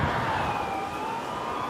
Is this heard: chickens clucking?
no